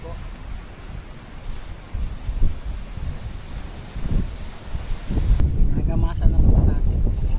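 Strong wind buffets the microphone in low rumbling gusts, growing heavier toward the end, at a chayote farm.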